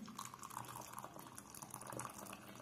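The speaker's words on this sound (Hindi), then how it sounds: "अब जो ये चाय का पानी है इसको छान लेंगे" Tea water poured through a strainer into a cup for cream tea, making a steady, faint, continuous trickle and splash without a break.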